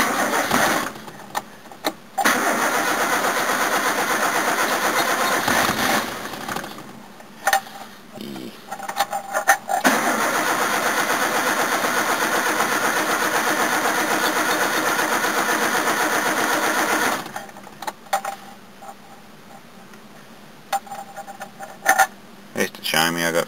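Toyota AE82 car engine started under choke after sitting with a doubtful battery, cranking and catching into loud rough running that cuts out and is restarted, with pauses between attempts and someone talking over it.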